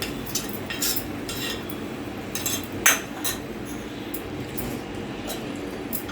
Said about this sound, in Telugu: ఇప్పుడు ఇందులో వేసేసుకొని కలిపేసేసుకోవాలి.